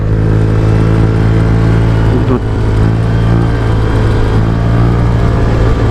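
Motorcycles and cars of an Eagles club convoy gathered for a socio-civic ride, a loud steady engine drone with idling hum and a brief rev, close by.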